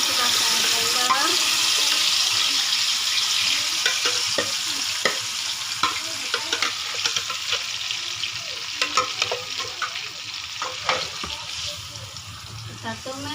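Blended rendang spice paste sizzles and fries in a hot pan, a steady close crackle with scattered scraping stirs and pops.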